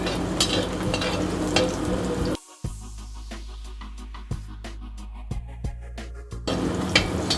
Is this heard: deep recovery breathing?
no